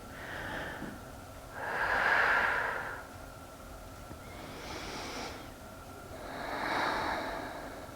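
Deep yoga breathing, slow and audible, with long airy inhales and exhales swelling and fading in a relaxed rhythm, close to the listener and with no talking.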